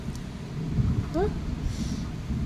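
Steady hiss of rain falling nearby, with a brief voice sound rising over it.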